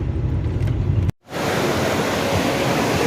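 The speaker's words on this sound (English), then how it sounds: "That is the river. That's River Nile" The River Nile rushes through the rapids at Busowoko Falls, a loud, dense wash of churning water that cuts out briefly for a moment before resuming just as strong.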